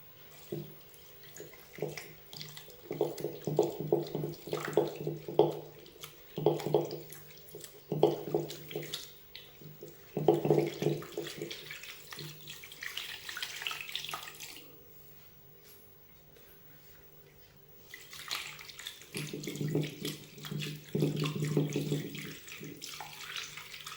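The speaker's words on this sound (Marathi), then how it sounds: "आता या पनीरवर थंड पाणी टाकून आपल्याला स्वच्छ धुवून घ्यायचं आहे" Cold tap water running over paneer being rinsed for rasgulla, bursts of splashing flow that start and stop several times, close and fairly quiet, with no talk.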